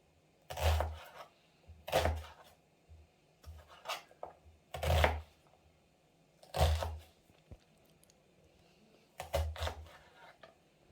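A knife chopping food on a cutting board while making honey and coconut caramelized chicken with onion, a series of sharp, distinct knocks spaced a second or so apart, fairly close, with quiet pauses between.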